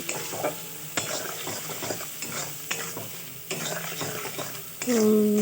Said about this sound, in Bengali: হলুদের গুঁড়ো দিয়ে ভালো করে নাড়িয়ে নিচ্ছি